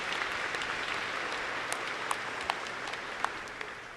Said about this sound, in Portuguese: Uma salva de palmas para essas meninas lindas.